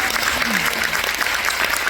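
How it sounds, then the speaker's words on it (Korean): Loud, dense applause from a seated audience fills the whole moment, with a voice briefly heard beneath the clapping. "우리 박수 한번 보내드리겠습니다."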